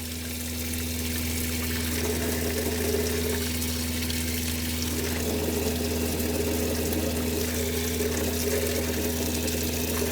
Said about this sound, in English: you're just spraying in here until you don't see that pink again, a nice steady stream of clear water coming out